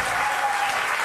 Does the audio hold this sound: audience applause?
yes